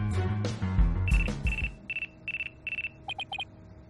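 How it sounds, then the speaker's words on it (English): A phone ringing in the video game Ace Attorney Dual Destinies: several short repeated electronic ring bursts in an even rhythm, followed by a few quick higher beeps, preceded by brief game sound effects. "Looks like I have a phone call."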